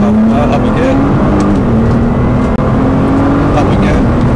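A 2015 Nissan GTR runs at full power around Eelmoor Circuit in Aldershot, a loud, close engine note climbing steadily through the gear with a split-second break near the middle, under an instructor's voice.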